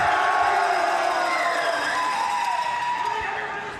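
Crowd at a classic Tetris world championship cheering and whooping loudly and continuously, a dense roar of voices that holds steady then eases slightly toward the end.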